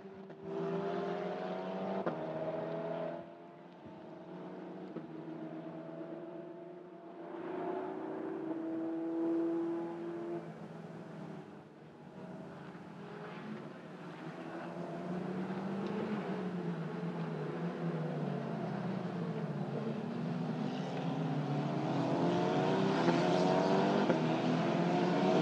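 Single-seater race cars lap the Magny-Cours circuit, a mix of engine whine rising and fading from cars passing at a distance, with a safety car out during the race; fairly faint overall, the engine note building toward the end.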